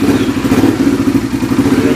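Guerrero GFT 300 quad's engine runs after a valve adjustment, a loud, close, steady idling chug with fast rhythmic pulsing and light clatter.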